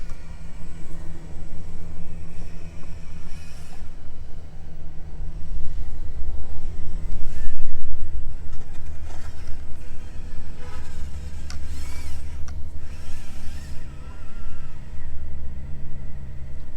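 An SCX24 RC crawler with an upgraded 2-speed transmission and motor creeps slowly over rough ground, its small motor and gears giving a continuous whirring rumble that swells and eases as it searches for traction, close to the microphone.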